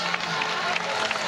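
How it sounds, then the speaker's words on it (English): Crowd applause after a sprint race victory, a steady broad roar of clapping and cheering filling the short stretch at even loudness. "And taking the applause of the crowd."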